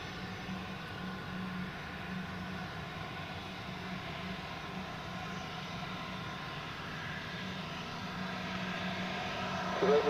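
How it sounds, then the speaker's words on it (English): An Airbus A330 airliner on final approach at Zurich Airport produces a steady, distant engine roar and broad rumble that holds evenly throughout and swells slightly at the very end, with no clear talk over it. "the next A330 is already on final"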